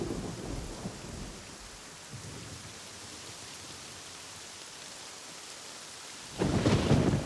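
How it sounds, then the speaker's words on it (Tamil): Heavy rain hisses steadily, with low thunder rumbling near the start and a louder crack and roll of thunder bursting in at the end. "வரங்கள் முழுக்க மழை பயங்கரமா பெஞ்சுக்கிட்டு இருக்கு."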